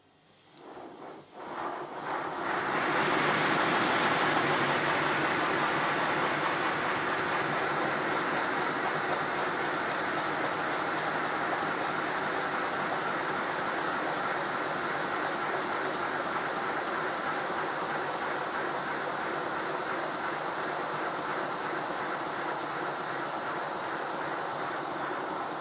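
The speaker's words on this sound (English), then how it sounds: "now the lubricator is working, I can run the engine much faster." Simplex Prairie tank model steam engine running fast with its lubricator working, a steady loud hiss of steam and rapid chuffing that starts abruptly and continues without pause, close by and with no voices.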